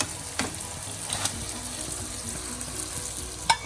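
Chicken and chopped green chilies fry in a pan with a steady, close sizzle and a few sharp clinks and stirring knocks scattered through.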